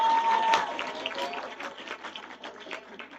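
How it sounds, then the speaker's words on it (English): Audience applause at a women in media and communications panel discussion, a dense wash of clapping that gradually thins and fades, with some voices under it. "A big round of applause to Dr."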